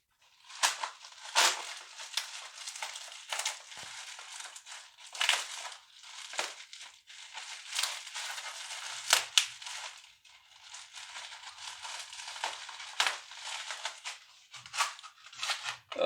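Cardboard package being cut open, with repeated crisp snips and crunching cuts coming in uneven bursts, close and fairly quiet.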